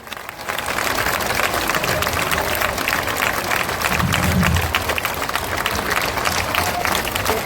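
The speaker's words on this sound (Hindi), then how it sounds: "ताली, जोर से ताली बजाइए" A political rally crowd breaks into loud, sustained applause, dense and continuous clapping filling the whole stretch without letup.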